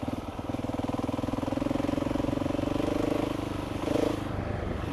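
Husqvarna 701e single-cylinder motorcycle engine pulling in third gear on a country road, a steady close thrumming pulse that swells slightly as the throttle is eased on.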